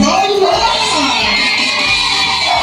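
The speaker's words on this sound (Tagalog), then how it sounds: "Grabe yung sigawan eh." A crowd of supporters shouts and cheers together at an outdoor gathering, a loud, dense wall of whoops and yells holding steady for a few seconds.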